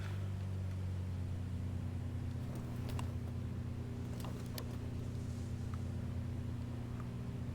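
A steady, low droning hum from a twin-engine vehicle in the War Thunder game, heard continuously in VR, with faint clicks and rattles over the constant engine tone and no talking.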